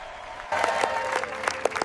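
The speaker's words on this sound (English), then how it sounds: "Applause exploded, but Zainab didn't move." Applause for a newly appointed executive manager at a company gathering, a dense crowd of hands clapping that starts suddenly and continues steadily at moderate volume, with a few sharper claps standing out.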